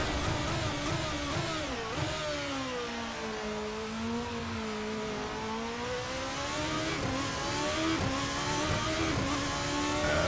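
A GP2 open-wheel race car in the Assetto Corsa racing game screams under hard acceleration, its high, steady engine note climbing and shifting continuously and close, with no talking over it.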